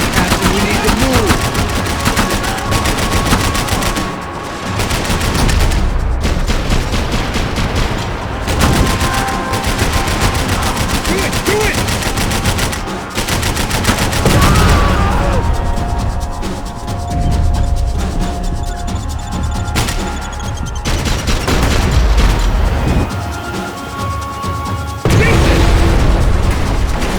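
Gunfire in the video game Max Payne 3, dense bursts of automatic shots and booming impacts, loud and nearly continuous, with voices shouting at times.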